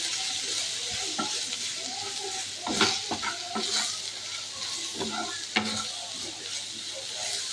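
Ridge gourd sizzles steadily in hot oil with Kashmiri chili powder, broken by sharp scraping stirs of a spatula against the pan and a few louder clatters, close and continuous with no talking.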